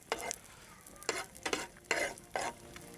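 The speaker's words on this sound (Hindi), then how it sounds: "इसको हिलाते रहना ताकि ये जुड़ ना जाए आपस में।" Edible gum fries in desi ghee for aloe vera and suji halwa as a spoon stirs it, giving a soft background sizzle broken by four or five brisk scraping strokes, close by with no voices.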